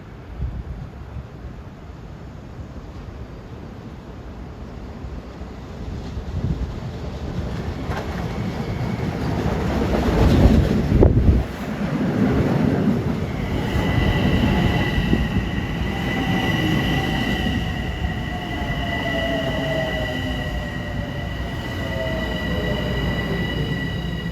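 A Long Island Rail Road train running Penn Station to Babylon pulls into Forest Hills station during the morning rush, a steady rumble of rolling cars swelling close by, with rising squeals and tonal whines from wheels and brakes as it slows.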